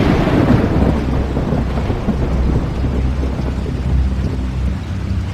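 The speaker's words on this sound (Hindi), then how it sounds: "बाहर बिजली कड़की" Thunder rumbles through a storm with steady rain in the background, a broad, continuous roll that stays loud throughout.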